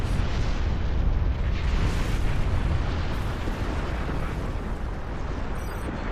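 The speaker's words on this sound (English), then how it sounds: "Big explosion." A big explosion in the Star Trek Online video game, a loud, sustained roaring blast with deep rumble that fills the whole stretch without fading, no voices over it.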